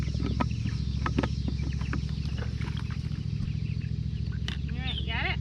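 Meat chickens in a farm setting, a steady chorus of clucking and soft calls close by, with low machine hum beneath and a few sharper squawks toward the end.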